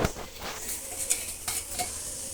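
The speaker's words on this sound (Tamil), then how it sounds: "நெய்யில் கடுகு ஜீரகம் தாளித்து கொட்ட வேண்டியதுதான்" Mustard seeds and cumin tempering in hot ghee for coconut milk rasam, a soft crackling sizzle with light popping and a few clinks of a spoon against the pan.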